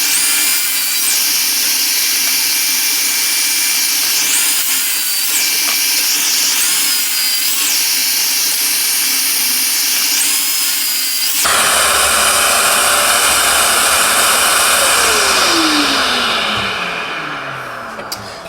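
A power saw cuts wooden alcove unit components to size: a loud, sustained whining buzz that shifts to a coarser, heavier cutting roar partway through, then winds down at the end.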